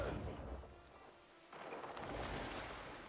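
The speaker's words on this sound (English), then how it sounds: "It's been raining more and more in this game." Steady rain in the video game Crimson Desert, a broad continuous hiss with a low rumble, dipping briefly before swelling back, heard alone without voices.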